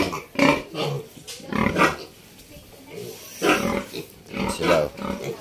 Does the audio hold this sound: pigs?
yes